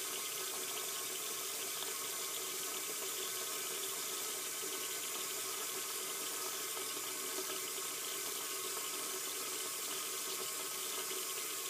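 Tap water running steadily into a sink during a handwashing demonstration, a soft continuous splashing rush at low level, with no speech.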